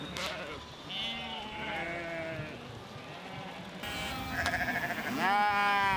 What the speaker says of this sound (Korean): 역시나 도로에서 수많은 양떼와 만났다.